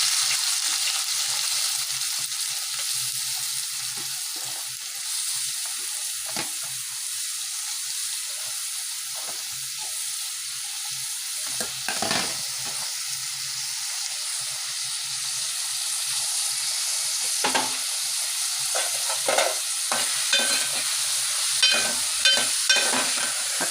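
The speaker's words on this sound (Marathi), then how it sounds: "कांदा आपण बारीक गॅसवर छान परतून घेणार आहोत, कांदा लाल होईपर्यंत" Finely chopped onion sautéing over a low gas flame for chicken biryani, a steady broad sizzle that holds throughout, with a few faint scrapes and clinks toward the end.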